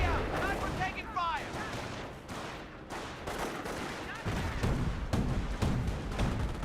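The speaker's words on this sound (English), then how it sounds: "30 cal peppers up a little bit there." Bursts of .30 cal machine gun fire in the World War II strategy game Company of Heroes, rapid repeated cracks over a loud battle background with explosions.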